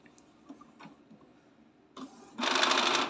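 Faint clicks and ticks give way to a loud, buzzing mechanical whir of the gears in an Epson L130 inkjet printer running for about a second.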